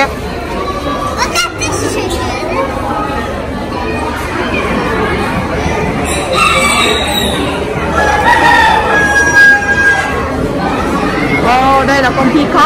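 Chickens crowing and clucking in a busy poultry area at a US county fair, with crowd chatter and nearby talking throughout and a few crows rising above the din.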